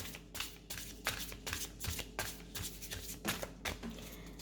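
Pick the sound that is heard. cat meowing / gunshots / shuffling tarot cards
shuffling tarot cards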